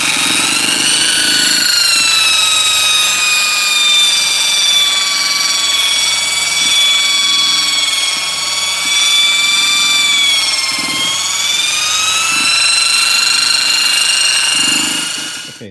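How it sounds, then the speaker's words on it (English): A Restorer polishing tool with a Scotch-Brite roller spins at fairly low RPM on bare aluminum sprayed with WD-40, giving a steady, loud high-pitched whine that runs continuously for the whole stretch before cutting off at the end. "we're gonna run the restore on a fairly low RPM"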